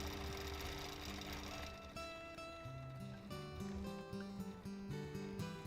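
A long arm quilting machine stipples a quilt with a small stitch length, giving a continuous, fairly quiet mechanical hum and rapid stitching patter throughout.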